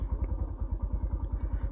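A used motorcycle idles nearby, its engine thumping in a steady, even, low rhythm just before it is switched off.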